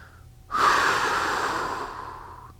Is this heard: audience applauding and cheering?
no